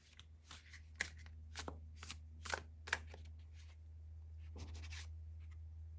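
Oracle deck cards are handled and shuffled close up, crisp riffling swishes and light slaps in uneven bursts against a quiet low hum.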